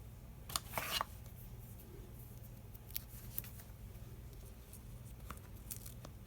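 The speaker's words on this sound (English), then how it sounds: "I'm going to move it over quite a bit and cut that end off." Scissors cutting paper for a lap book, with a few quick close snips and rustles near the start, then sparse faint clicks and paper handling over a low background hum.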